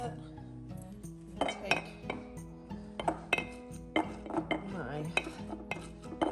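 Shredded cabbage is pressed into a glass fermentation jar, making a series of close clinks and knocks of glass and utensils with soft crunching in between, while a voice speaks briefly.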